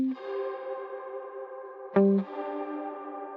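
Sustained electric guitar notes ring through a shimmer reverb with its pitch-shift feedback turned down to zero, leaving smooth washy tails. A fresh picked note strikes near the middle and then decays with the rest.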